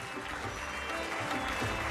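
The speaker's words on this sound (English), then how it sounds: "An extra round of applause for that." Dense, steady audience applause fills a large hall at the Bengaluru India Nano summit, clapping continuously without pause for a couple of seconds.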